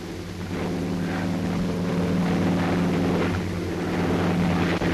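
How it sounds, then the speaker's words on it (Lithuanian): Propeller airplanes from the late 1940s flying overhead, a steady broad engine drone that stays loud and continuous throughout, with some wind rumble. "Mikai, žiūrėk lėktuvai."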